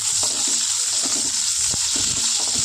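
Garlic and drumstick (moringa) leaves frying in a pan, with a steady bright sizzle throughout and a few soft stirring scrapes and knocks underneath.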